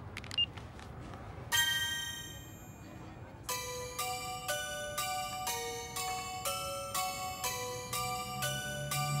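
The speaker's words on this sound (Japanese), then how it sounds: "この着メロ" A mobile phone ringtone in a Japanese horror film scene: after a brief soft intro, a bright electronic chime melody of repeating tonal notes plays steadily and clearly over a quiet background.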